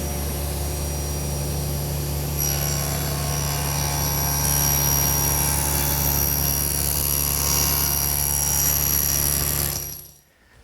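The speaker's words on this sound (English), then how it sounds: "And I'll do that over at the table saw. Now the first step is to just cut through this leg." A table saw cuts through a wooden mirror leg with a loud, steady motor whine and blade roar that shifts pitch as the blade bites in, then quickly spins down at the end, with no talk.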